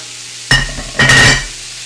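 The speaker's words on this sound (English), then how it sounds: "I'm going to put on a grill. You could hear it sizzle." Two bursts of loud, close sizzling as roast beef hits a hot grill, the second longer, over a steady background hum.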